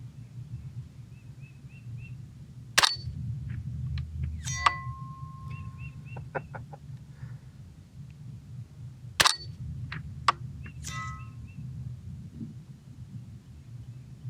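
Two sharp, loud rifle cracks about six seconds apart come from a Savage A22 Pro Varmint .22 rimfire fired at long range outdoors, each with a short tail, over a low steady rumble and a few faint chirps.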